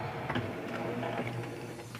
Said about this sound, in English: I'm going to go ahead and load my Cricut machine